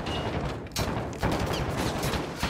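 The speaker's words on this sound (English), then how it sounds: "The hell are you shooting at?" Sustained gunfire from a Call of Duty story mission, dense and loud throughout, with bursts that swell and renew at a couple of points.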